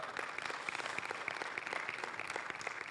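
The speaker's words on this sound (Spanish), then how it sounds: "dale un aplauso al Señor" A church congregation claps for the Lord during a Spanish-language sermon, steady, dense applause filling the room throughout, fairly soft and even in level.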